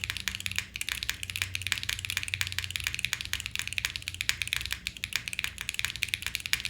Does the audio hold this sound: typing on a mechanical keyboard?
yes